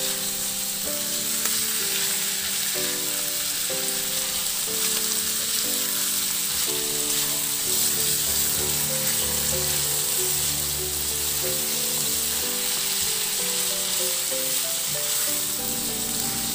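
Shrimp sautéing in a pan, a constant loud sizzle with occasional stirring under steady background music, no voices.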